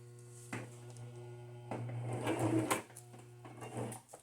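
A sewing machine stitches through two layers of fabric in short runs, starting and stopping in a few bursts over a steady motor hum, including a brief back stitch.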